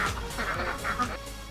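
Ducks in a duck tractor by a fenced chicken flock, quacking in a steady run of repeated nasal calls, close and fairly loud, with several birds overlapping.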